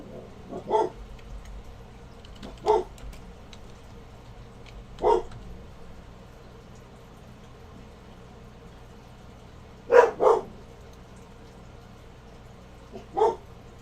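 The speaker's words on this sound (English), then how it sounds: "Sorry about the dogs." Dogs bark in a few short, separate bursts, including one quick double bark, sounding a little distant against a quiet room hum.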